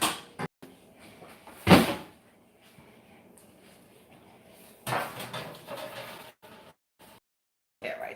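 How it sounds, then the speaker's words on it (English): A pan being pulled from a kitchen cupboard: a sharp thump of the cupboard door, then rattling metal clatter as cookware shifts, a few separate knocks with quiet gaps between. "Let me grab a pan."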